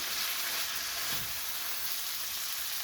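Tomatoes fry in oil for a mung bean stew, giving a soft, steady close sizzle with a faint stir or bump partway through and no talking.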